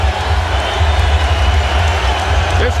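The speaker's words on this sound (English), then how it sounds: "This crowd is on its feet, and they are hysterical with what they're seeing from Vince Carter." Packed basketball arena crowd cheering Vince Carter's three-pointer during a 2001 playoff game, a dense sustained roar filling the space at steady loudness, with a commentator talking over it.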